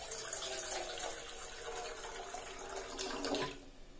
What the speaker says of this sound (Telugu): స్టవెల్ తీసుకొని గిన్నె పెట్టుకొని వాటర్ పోసుకుందాం